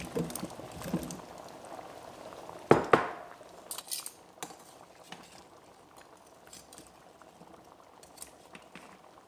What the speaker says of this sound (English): So I'm going to go ahead and open this up. Add in our carrots. Add in our potatoes.